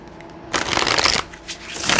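Tarot cards shuffled by hand in two bursts of dense riffling, loud and close, with a short pause between them and no talking.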